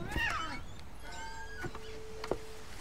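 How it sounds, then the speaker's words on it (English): A cat meows a few times in the video game What Remains of Edith Finch, short rising cries near and fairly soft over a quiet background hum. "Is that a kitty cat?"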